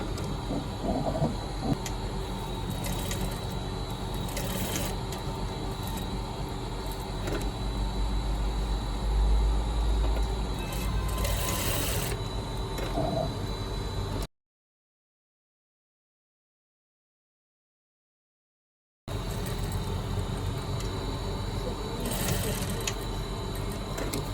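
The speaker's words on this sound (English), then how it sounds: "Okay, so let's continue. Let's start sewing." Sewing machine running steadily while stitching a woman's shirt collar, a close, continuous mechanical hum and rattle that breaks off briefly into silence before resuming.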